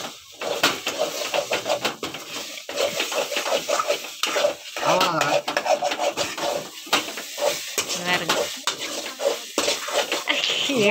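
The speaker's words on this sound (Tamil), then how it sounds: "7 முட்டை வாங்கிட்டு வந்து வறுத்துட்டு இருக்கிறாரு" Eggs frying and being stirred in a home kitchen pan, with pepper mentioned, giving a continuous sizzle under repeated scraping and clinking of a utensil against the pan, fairly close, with some talk in the background.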